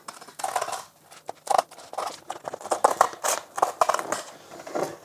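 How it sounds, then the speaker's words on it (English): Scissors cut a piece in half during a skateboard deck setup, giving a run of crisp, close snips and crunchy cuts at an irregular rhythm, with no talking. "Definitely don't tell my girlfriend that I'm using these scissors because these are her best scissors."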